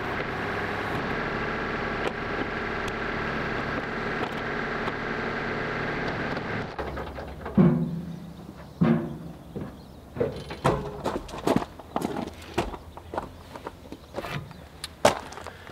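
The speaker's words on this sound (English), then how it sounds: "I'm going to go ahead and turn the tractor back on and reposition this backhoe a little bit." A rumbling tractor engine runs steadily for several seconds, then gives way to clanks, thuds and mechanical knocks as the backhoe is repositioned nearby while loading onto a trailer.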